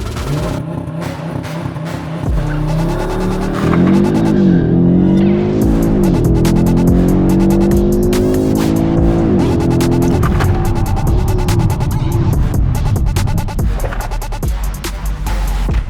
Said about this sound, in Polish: noga na hamulec i gaz w podłogę, czekamy, 150 i hamulec w podłogę